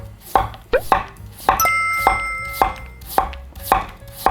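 A knife slices a new-season potato into fine julienne strips on a cutting board, making sharp, close, evenly spaced chops about twice a second. No voices are heard.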